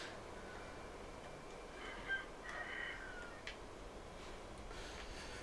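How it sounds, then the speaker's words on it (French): A fighting rooster in the Sekiro video game clucks and squawks in a few short, faint bursts over a low, steady game ambience. "Un coq de combat."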